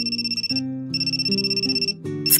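A looping electronic phone ringtone in the Amnesia: Memories video game, a bright repeating melodic pattern with short pauses between phrases, clear and alone.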